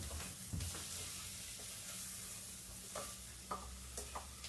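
Onions frying in a pan for dhal, heard as a soft, low sizzle with occasional stirring knocks and scrapes, fairly faint and close.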